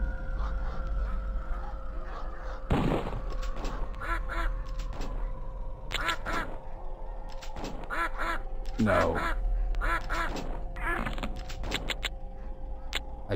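Quacking from a duck in a video game, repeated cartoonish calls in bursts over a constant electronic hum, with a brief spoken word from a player.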